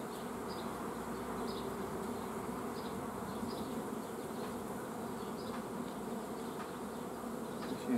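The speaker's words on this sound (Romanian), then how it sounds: "Albina caută." Honeybees buzz steadily around a beehive frame during colony work, a continuous droning hum with a few individual bees passing closer now and then.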